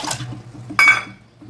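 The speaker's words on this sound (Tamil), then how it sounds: "புளியை வந்து கரைச்சிக்கலாம் புளியை கரைச்சிக்கலாம்" Water splashes and stirs in a bowl as tamarind is dissolved, with a brief louder slosh midway and faint clinks of a utensil against the dish.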